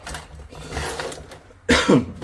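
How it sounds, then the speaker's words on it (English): A person clears their throat, with a couple of rough, raspy bursts, the loudest one near the end, close and fairly loud. "always clearing my throat"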